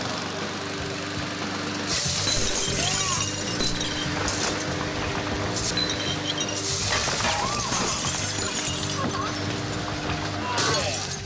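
A lawnmower blade spinning at 3000 RPM smashes into a wall of full glass jars: loud bursts of shattering glass over a roaring engine, with voices shouting through the din.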